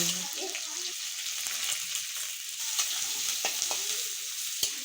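Onion fries in a pan of oil with bay leaf, dried red chilli and panch phoron, making a bright steady sizzle with occasional stirring clicks and brief scrapes, and a short voice at the start.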